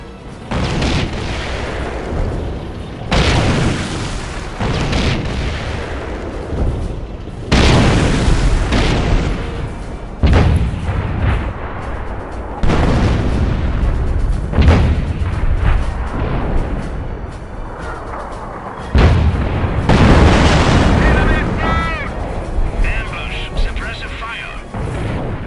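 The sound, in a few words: sector artillery strikes in Company of Heroes video game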